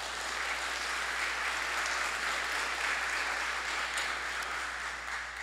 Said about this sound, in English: Will you please join me in giving them a round of applause?